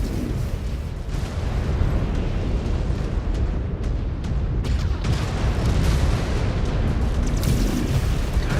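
Dense, rumbling video game battle with a continuous wash of explosions and booms, heavy and loud throughout, with no pauses.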